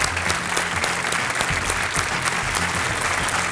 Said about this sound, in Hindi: आइए, तालियों के साथ इनका स्वागत।